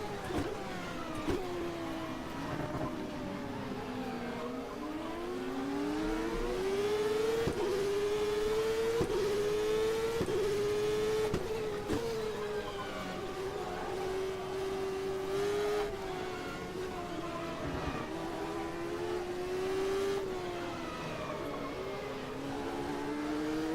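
A CART Penske race car engine at Portland in the Game Stock Car racing sim howls continuously, its pitch climbing and dropping repeatedly through gear shifts and corners, with a brief voice under the engine.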